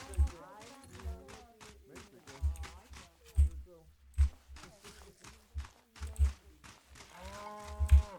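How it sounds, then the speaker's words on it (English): Cows in a farm pen in the Gamedec video game give repeated low moos, with heavy thumping and a voice talking over parts of it. "Cows. There must be a pen nearby."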